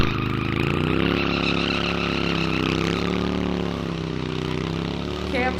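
A drift car puts up tire smoke in a drift pit at a test-and-tune day, with a loud, sustained engine roar and screeching tire skid running steadily throughout.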